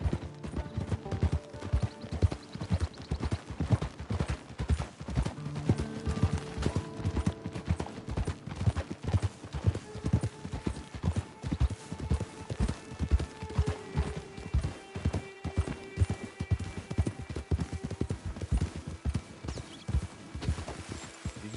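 Rapid rhythmic hoofbeats of a horse galloping in the video game Red Dead Online, a steady drumming clip-clop lasting throughout with creaking tack and occasional game sounds, and no talk.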